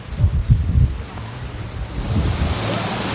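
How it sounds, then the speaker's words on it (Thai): Strong wind gusts on the Mekong riverbank at Mukdahan, Thailand, buffet the microphone in a deep, irregular rumble that eases and then swells into a steady rushing roar. "ดูลมลมพัดขนาดเลยครับลมแรงนะครับ"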